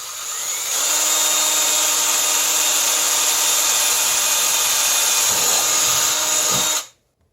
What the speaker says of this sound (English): So I'm going to drill one pilot hole with my drill.